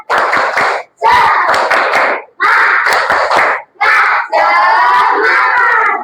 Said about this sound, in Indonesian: Tepuk siku, tepuk pundak, tepuk tangan. Tepuk semangat.